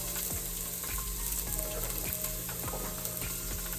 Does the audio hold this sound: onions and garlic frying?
yes